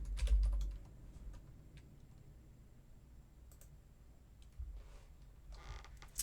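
Close, soft keystrokes on a computer keyboard come in a quick burst at the start and a few more near the end, with quiet room tone in between.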